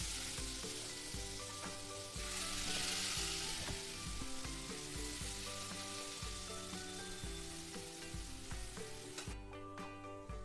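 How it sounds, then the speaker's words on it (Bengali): Onions frying in hot oil with whole black peppercorns in a home kitchen, a steady, dense sizzle with crackles and pops that continues for about ten seconds, close and unbroken, with no voices. "এরপর পেঁয়াজগুলো ছেড়ে দেব"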